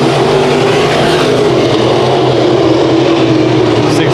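Sport Mod race cars at Bakersfield Speedway, a continuous loud engine roar from a pack of cars running the heat race, steady and dense throughout with no breaks.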